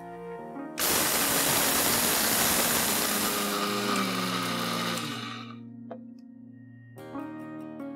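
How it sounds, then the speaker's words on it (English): An electric grinder whirs loudly for several seconds as it turns roasted spices into a fine powder, then winds down and stops, and starts up again briefly at the end. "And now we'll cool it and grind this to a fine powder."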